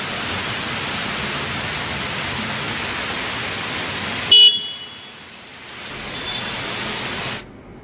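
Heavy rain with thunder and lightning pours over roads already holding standing water, a steady dense hiss with passing traffic and a brief car horn, before the downpour thins and cuts off.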